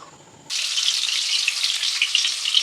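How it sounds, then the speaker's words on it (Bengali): Eggs and potatoes hit hot mustard oil in a heated wok, and a loud, steady sizzle bursts in after a half-second of quiet and crackles on without a pause, with no talking. "ডিম আলুটা এবার ভেজে নেব একটু লাল করেই ভাজবো"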